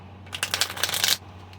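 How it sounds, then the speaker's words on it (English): A holographic Rider-Waite tarot deck gets a quick shuffle. A brisk, close run of crisp card flicks lasts under a second, heard alone over a faint hum. "I'm just giving them a little shuffle to air them out."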